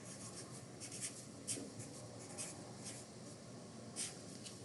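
A pen scratches out the word planted on paper, soft close scribbling strokes with a few brighter taps, quiet and alone.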